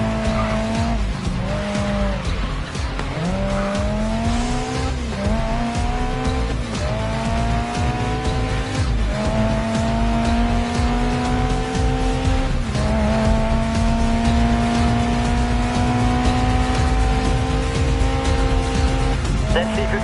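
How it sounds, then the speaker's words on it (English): Racing game car engine in Grid Legends revving hard and continuously while drifting, with tires squealing through handbrake slides and gear-shift dips, loud and sustained throughout. "Try a corner with a touch of handbrake."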